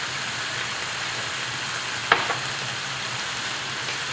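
Eel being stir-fried in a hot wok sizzles and crackles steadily and loudly throughout, with one brief clatter near the middle.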